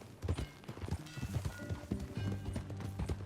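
A ridden horse in Red Dead Redemption 2 clip-clops along at a steady pace, rhythmic hoofbeats mid-distance under soft ambient sound.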